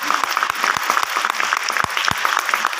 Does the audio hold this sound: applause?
yes